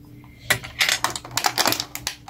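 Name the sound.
spoon being handled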